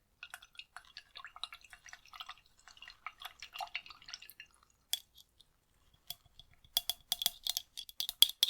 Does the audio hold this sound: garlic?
no